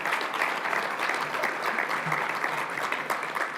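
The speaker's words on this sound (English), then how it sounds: "let's give him a round of applause" A breakfast crowd at an MLK event claps steadily for the mayor of Northeast Portland, an even, moderately distant wash of hands that holds at one level throughout.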